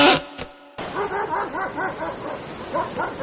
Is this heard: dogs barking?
yes